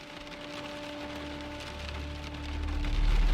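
Steady rain sound effect for a storm-night drive toward a motel in a horror audio drama, a dense continuous patter with a low rumble that swells louder toward the end, no voices.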